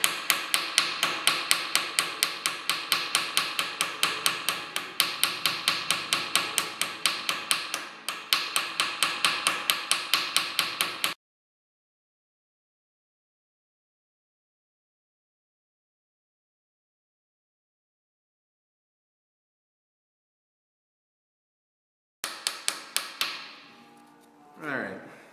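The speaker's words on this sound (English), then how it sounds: "Very gently, we're going to try to peen that over." A hammer taps metal gently in a quick, steady run of light blows for about eleven seconds, then silence, then a few more taps and a faint scrape near the end.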